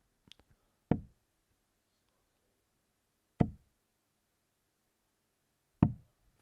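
Three darts thud into a dartboard at a darts finals night, sharp isolated knocks spaced about two and a half seconds apart in near silence, close and crisp.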